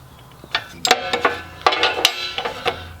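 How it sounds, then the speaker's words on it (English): A 17mm wrench loosens a hose fitting on an RV propane regulator, making a series of metallic clicks and ratcheting scrapes, close by and irregular, over about three seconds. "I'm gonna go ahead and use a 17mm wrench to get this hose off."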